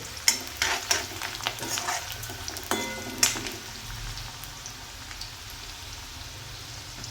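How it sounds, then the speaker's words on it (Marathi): Onion frying lightly in oil in a pan as it is stirred: a close sizzle with a few sharp scraping stirs early on, settling into a softer steady crackle, no talking. "कांदा मस्त थोडा परतून घेऊ. जास्त पण ब्राऊन करायचं नाही, थोडासा हलका हे करून घ्यायचा आहे, यात तळून घ्यायचा आहे."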